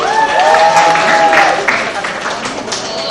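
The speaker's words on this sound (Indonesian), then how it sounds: "Tepuk tangan dulu buat Ahok" An audience applauds for Ahok at a Jakarta inspiration session, steady clapping filling the room with a voice carrying over the start, the applause continuing throughout before easing slightly near the end.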